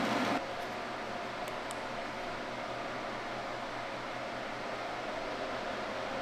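A portable fan blows steadily toward freshly mudded drywall, giving a constant airy whoosh with a slight low hum; it stays even and close throughout, following a brief louder rustle at the very start.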